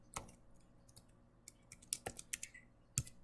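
Keys on a computer keyboard click in a soft, irregular run, with a few sharper taps that include the tab key. The sound is close and quiet, and no one talks.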